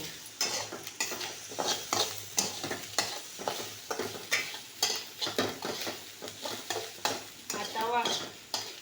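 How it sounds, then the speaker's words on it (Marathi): Grated fresh coconut roasting with onions in a pan sizzles steadily while a spoon scrapes and taps the pan in quick, repeated strokes, fairly close and loud. "ओलं खोबरं पण भाजून घेऊया त्यात याच्यामध्ये कांद्यात."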